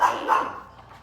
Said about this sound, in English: Dear Gustav, please stop barking.